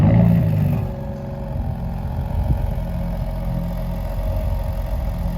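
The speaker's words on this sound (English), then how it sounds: "the new third generation Raptor is how loud it is" A third-generation Ford Raptor pickup engine starts up with a loud opening burst, then settles into a steady, deep, clattering rumble close by.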